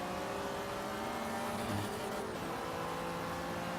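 A BMW M3 or M5 engine in Forza Horizon 3 drones steadily at a sustained, moderate hum with faint tire noise, continuous and without talk.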